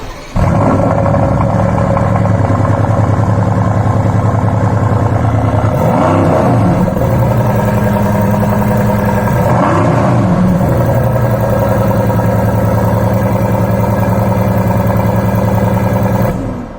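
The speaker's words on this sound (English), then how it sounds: "I'll put up a clip of how the exhaust of this car sounds" A Mercedes-AMG GT C idles loud and close with a deep, steady exhaust rumble, broken by two short throttle blips that rise and fall around the middle, then settles back to idle.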